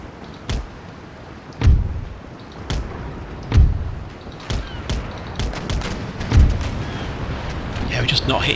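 Cannon fire from sailing warships in an Empire: Total War naval battle: a series of heavy booming shots, some near and loud and others more distant, spaced irregularly over sea ambience, with someone talking over them.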